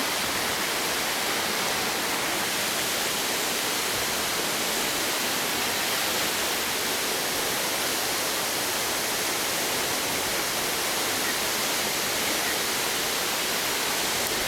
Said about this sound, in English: Not a soul in sight of this waterfall, guys.